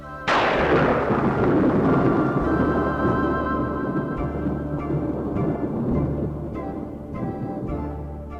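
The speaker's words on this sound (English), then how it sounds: "the roar of thunder like a continuous bombardment" Deep rolling thunder cracks loudly and then rumbles on continuously, with repeated heavy booms like distant bombardment.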